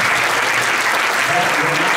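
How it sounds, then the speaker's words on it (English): A high school pops and jazz concert audience applauds the guest arranger John DeVersa, a loud, continuous wash of clapping from a full hall across the whole stretch. "Let's give him one more round of applause."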